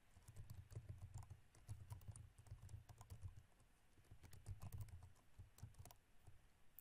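Rapid, uneven clatter of keys on a computer keyboard as an email address is typed, steady and close, with brief pauses between bursts of keystrokes.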